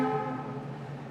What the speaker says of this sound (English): That is a very heavy train.